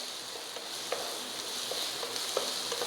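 Onions with a little salt sautéing in a pan until browning for Kerala-style kadala curry: a soft, steady sizzle with faint stirring scrapes, quiet and alone.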